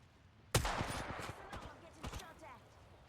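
Gunfire in Apex Legends cracks out in a sudden volley of several quick shots, followed by a second short burst a moment later, fairly faint overall.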